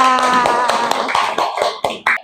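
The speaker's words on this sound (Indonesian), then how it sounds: "Tepuk tangan untuk semuanya." A class in a primary school claps hands together in a loose, uneven patter of taps that thins out into a few scattered claps. Voices mix in beneath the clapping.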